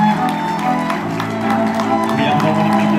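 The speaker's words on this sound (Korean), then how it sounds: "네, 여러분 큰 박수로 우리 양 아버님들을" Crowd applause from wedding guests in a Hyatt hotel hall as the two fathers enter, steady clapping blended with a string quartet playing underneath, moderately loud and continuous.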